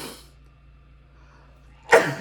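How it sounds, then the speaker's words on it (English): A single sharp sneeze erupts at the end after a stretch of near silence, preceded by a faint breathy sound at the start, during a live podcast recording. "we're about to sneeze here"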